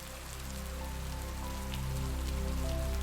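Steady rain falls on a cabin, a dense continuous patter of drops on surfaces, close and even throughout with a low rumble underneath and no voices.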